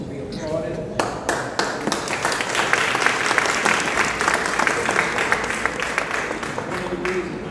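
A crowd at a gun violence advocacy press conference applauds steadily for several seconds, with speech heard over the clapping.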